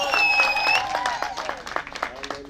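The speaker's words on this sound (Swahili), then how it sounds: "Makofi ya shangwe na vigelegele" Applause and high, trilling ululation fill a wedding celebration for Julie and Julius, with dense clapping and bright wavering cries at the start that thin into scattered claps and cheers.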